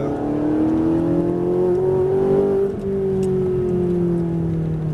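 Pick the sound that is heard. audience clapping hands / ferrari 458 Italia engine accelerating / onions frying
ferrari 458 Italia engine accelerating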